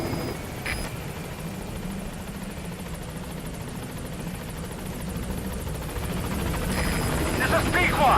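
Support helicopter arriving at a landing zone in Metal Gear Solid V: The Phantom Pain, a steady rotor drone growing slightly louder toward the end, with radio chatter over it.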